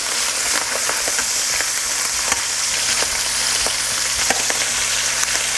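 Shrimp frying in very hot oil in a wok produce a loud, close, continuous hiss with sharp crackles and occasional pops, unbroken throughout.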